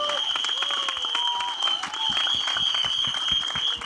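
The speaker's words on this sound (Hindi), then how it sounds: "दोनों के लिए एक बार जोरदार तालियां हो जाएं फॉर द डायरेक्टर डुओ" A crowd at a film trailer launch event claps loudly and continuously for the directing duo, with cheers and a whistle over dense applause and voices mixed in.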